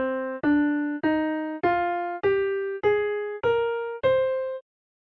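A C natural minor scale climbs one note at a time, eight evenly spaced tones, each struck cleanly and left ringing briefly before the next, ending with a short silence.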